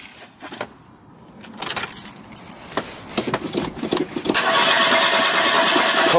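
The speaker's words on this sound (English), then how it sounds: "Cold start." Pontiac Trans Am engine being cold-started: a few seconds of key and cranking clatter, then the engine catches and settles into a steady, loud running roar near the end.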